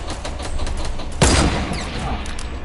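Gunshots from a video game shooter sound in a steady rapid burst of loud firing, with one heavier crack standing out midway.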